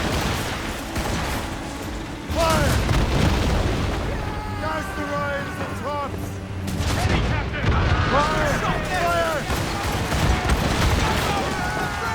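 Ship cannons boom repeatedly in an Assassin's Creed Rogue naval battle, heavy blasts rolling over churning sea noise while a voice shouts over the broadside.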